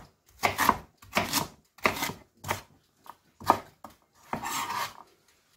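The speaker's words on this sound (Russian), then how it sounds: "И также нарезаю фенхель на небольшие кусочки" A knife chops through fennel on a cutting board in six or seven distinct bursts, each a crisp crunchy cut with short pauses between.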